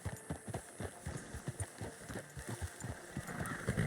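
Horse hooves clip-clop at a steady walking pace in the Red Dead Redemption 2 western game, with faint rhythmic thuds over a low ambient background.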